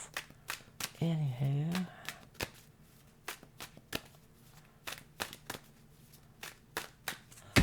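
A deck of playing cards is shuffled close up in a quiet room, giving a brief riffle followed by a string of sharp, separate slaps and taps, with a short spoken word partway through.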